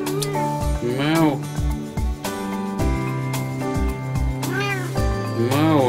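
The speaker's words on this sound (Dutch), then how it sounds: "Kijk, dat is mijn lieve poesie." Domestic cat meowing repeatedly in a home kitchen, several close, drawn-out rising and falling meows spaced through the clip, with a person speaking softly in between.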